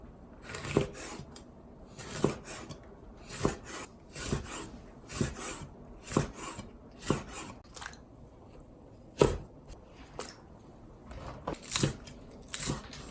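A knife slices chili peppers diagonally in a steady rhythm, about a dozen sharp cutting strokes against a board, close and fairly quiet.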